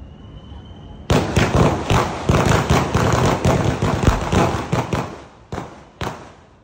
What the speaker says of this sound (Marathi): हे विजयाचे फटाके आहेत.